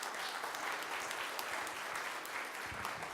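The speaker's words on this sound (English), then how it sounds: "Let's give her a round of applause." Audience at a 2016 talent show applauds after a performance, a dense, steady wash of many hands clapping close by for about three seconds, with no one speaking over it.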